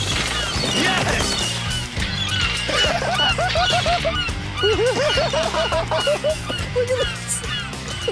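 A flock of birds squawks and honks loudly in a feeding frenzy over chips, sardines and a sandwich. The calls are dense and overlapping, with rapid repeated honks against a busy, noisy background.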